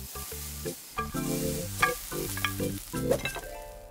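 Cartoon-style cooking in a pan, rendered as a quick run of stylized stirring and sizzling effects with tonal musical accents and bursts, steady and moderately loud with no voices.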